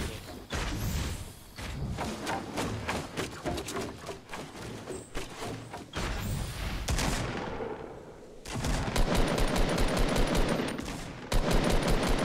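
Fortnite gunfire, loud bursts of rapid shots and repeated single cracks fired in quick succession through a firefight, with a brief lull before heavier sustained volleys resume.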